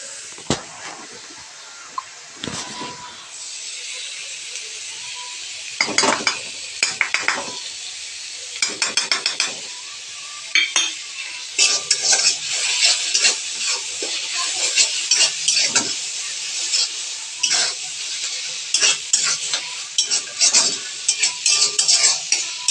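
Ginger paste frying in a pan for chicken kurma, a steady sizzle with repeated scraping stirs and clinks of a spoon against the pot, close and fairly loud.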